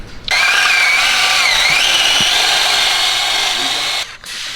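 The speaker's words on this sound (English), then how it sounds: "Should I bust a drill out?" A power drill whines at high speed for about four seconds, loud and close, its pitch wavering slightly before it stops, drilling a dowel pin hole on a drift car drivetrain.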